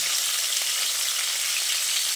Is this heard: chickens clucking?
no